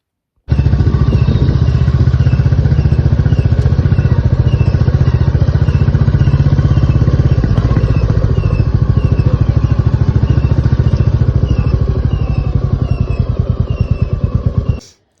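Royal Enfield Classic Next Gen motorcycle engine running steadily nearby with a rapid, regular thump and a metallic clatter, continuous for about fourteen seconds before cutting off.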